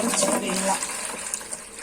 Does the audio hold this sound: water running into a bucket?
yes